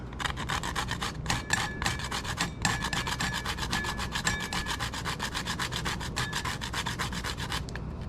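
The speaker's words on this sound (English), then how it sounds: "Get the whole nutmegs. They'll keep a long time. And then grate that yourself." A whole nutmeg is grated in fast, rhythmic rasping strokes, about three per second, close and crisp, with brief pauses between runs and no talk.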